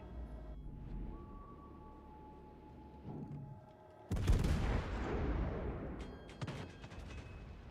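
Warship guns firing in World of Warships: Legends: quiet mechanical hum and faint distant reports give way to one loud, sudden broadband blast that rumbles and decays over several seconds.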